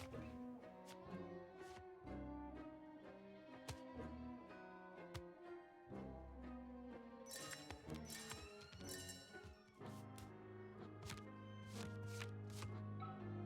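A deck of playing cards is shuffled by hand in repeated bursts, crisp riffling flutters and taps arriving in quick clusters over faint background music, quiet and close.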